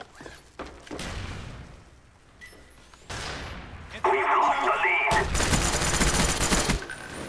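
Gunfire in Call of Duty: Black Ops multiplayer, with dense automatic bursts and fusillades that grow louder and more sustained in the second half, mixed with thuds and game effects as a voice talks.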